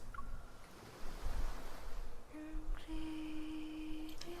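Ocean waves roll in a gloomy seaside scene from the video game Love and Deepspace, a soft, swelling wash of surf with a gentle surge midway, while a sustained musical tone and soft chime-like notes from the game's soundtrack rise in the second half.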